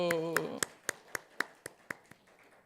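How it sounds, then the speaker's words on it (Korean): A church congregation at a Sunday morning worship service claps in a slow, even rhythm of about ten crisp, separate claps after a brief spoken word. The claps fade slightly toward the end. "박수."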